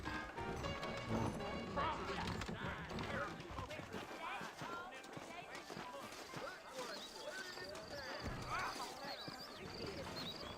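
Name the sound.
horse hooves clip-clopping in video game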